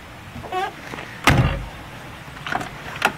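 The front door of a 1959 Lincoln Premiere being opened, with a solid latch clunk and a heavy thunk as it swings, followed by a few softer clicks and taps.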